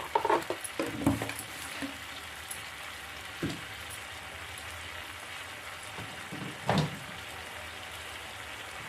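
Veg anda kadhi gravy simmering in a pan, a low steady bubbling hiss broken by a few louder pops and spatters near the start and around the middle, no talk.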